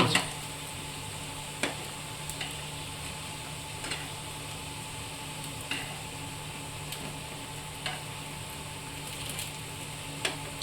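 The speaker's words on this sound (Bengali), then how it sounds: "তো এটা আমার হয়ে গেছে ভাজা, দেখুন পিঠে হয়ে গেছে লাল লাল করে।" Gram flour fritters fry in a pan with a soft, steady sizzle, punctuated by a few faint clicks and taps at irregular intervals, no voices over it.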